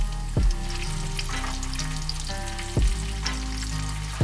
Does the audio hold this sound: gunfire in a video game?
no